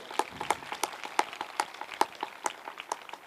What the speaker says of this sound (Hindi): ताली बजा के प्रभु दा धन्यवाद करो